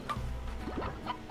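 Chickens in the video game Slime Rancher, a few soft nearby clucks and short chirpy calls over a quiet game background, no talk.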